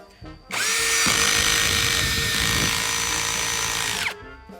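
A cordless drill with its clutch adjusted drives a screw into a board in one continuous burst of about three and a half seconds, a loud, close whine that starts and stops abruptly, with no talking.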